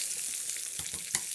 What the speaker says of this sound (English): Zucchini, I like zucchini, so I'm putting in some zucchini and we're gonna saute that off just to brown it a little bit